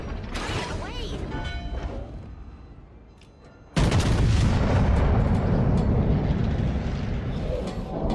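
Battleship main guns fire in the World of Warships video game aboard the Louisiana, a long booming blast rolling out under mechanical clanks, followed by a second loud, sustained roar that dominates the scene.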